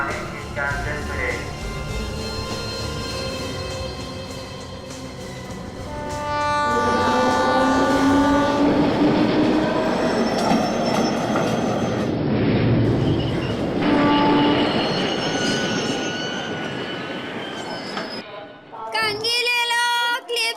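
Train at a station platform, carriages rumbling with a steady clickety-clack and loud rail noise that swells midway, with people talking over it.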